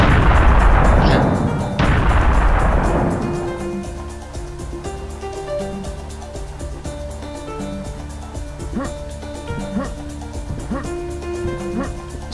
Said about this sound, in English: The cannonballs in this game are pretty awesome.